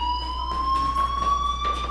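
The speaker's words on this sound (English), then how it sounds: "do you hear that fire alarm?" An electronic fire alarm in the video game Life is Strange rings as one loud, steady, high tone, holding without a break for the whole stretch.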